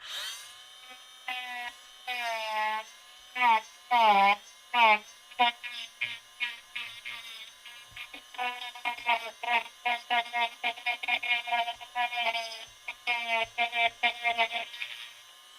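A small burr bit in a rotary carving tool whirs at high pitch, revving in short bursts and then running in a rapid stuttering series of cuts as it bites into the work, close and loud, with no talk over it.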